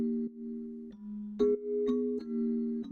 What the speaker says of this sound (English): like slowed down, resampled bells keyboard sound